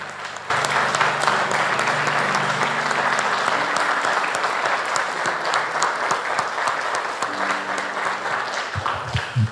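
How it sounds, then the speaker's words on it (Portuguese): A church congregation applauds steadily and loudly for several seconds during a worship service, a dense wash of clapping that holds its level throughout. "Vamos aplaudir ao Senhor."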